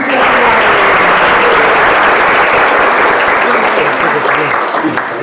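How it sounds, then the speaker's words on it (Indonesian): A seated audience at a regency hall meeting applauds loudly and steadily, dense clapping holding at a constant level throughout with little variation before easing slightly at the end. "Tepuk tangan sekali lagi."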